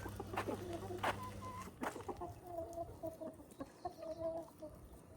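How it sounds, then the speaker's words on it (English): Roosters and hens cluck softly on a wooden home deck, with a few sharper calls early and then quieter, scattered clucking at moderate distance. "These roosters find the cat food and eat all the cat food."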